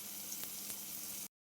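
Chopped onions frying in oil over a radhuni tempering give a steady, close, soft sizzling hiss for about a second before cutting off.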